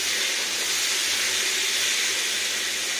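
Water hits a hot pan of fried potatoes and erupts into a loud, steady, close sizzle, a continuous broadband hiss that holds without pause.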